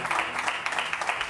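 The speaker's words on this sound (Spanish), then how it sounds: "Es un aplauso sorpresa para Nueve de María." Brief burst of surprise applause from a TV studio audience, a dense steady patter of many hands clapping for about a second, with no voices on top.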